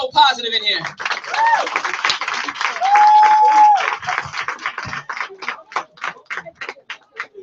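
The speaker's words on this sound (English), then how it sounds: "Please clap for yourselves for keeping it so positive in here." Audience applause at an open mic night, a burst of hand claps mixed with crowd voices and cheers, thinning out into scattered individual claps toward the end.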